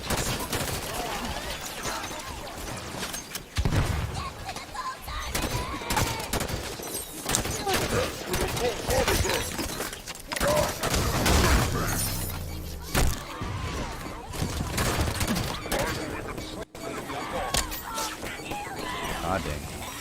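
Turret fire rattles in Halo 5: Guardians on Xbox Series X, continuous loud bursts of rapid shots mixed with impacts and crashes over a busy twenty-second stretch, with players talking over it.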